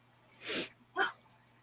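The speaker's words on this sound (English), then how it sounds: "I'm going to sneeze" A woman sneezes during a casual online chat show, with a quick breathy intake followed by a short sharp burst, close and fairly loud against a quiet room.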